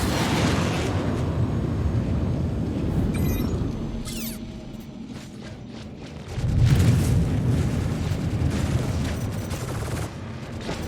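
Missiles striking ships in a Star Citizen space battle involving an RSI Scorpius fighter: a dense run of rumbling explosions and crackling impacts, swelling louder in the latter half with sharp bursts over a constant roar.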